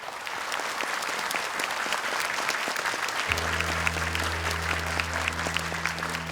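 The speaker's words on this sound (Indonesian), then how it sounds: "Boleh tepuk tangan untuk mereka." A studio audience at a Quran memorization talent show applauds the contestants, a dense, steady wash of clapping that stays loud throughout, with a sustained low musical tone entering halfway.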